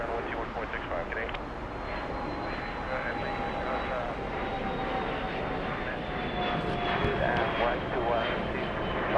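A large airliner taxiing at Los Angeles airport gives a steady, moderately loud jet engine drone with a faint whine, continuing throughout beneath background voices.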